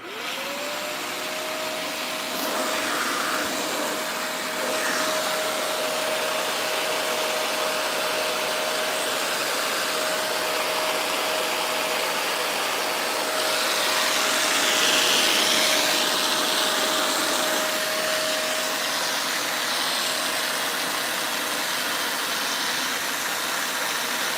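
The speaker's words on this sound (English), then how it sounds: "Turn the machine on, pull the trigger." A spot carpet cleaner runs with its trigger held, giving a steady, loud motor and suction drone with a constant whine, unbroken for the whole stretch and swelling slightly partway through.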